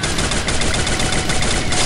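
Rapid automatic gunfire in the mobile shooter Free Fire, a dense, loud burst of shots fired in quick succession for about two seconds without pause.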